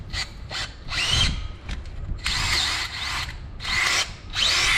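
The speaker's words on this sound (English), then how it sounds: "So now we're gonna go ahead and start drilling this hole." A power drill bores a hole in a Honda cylinder head for a Time-Sert head bolt thread repair, running in several loud, close bursts separated by brief pauses as the bit is fed in and backed out.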